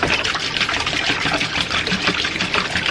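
Vinegar poured into a brain-tanning solution for animal skins, a steady liquid trickle and splash running continuously and close by, with no voices.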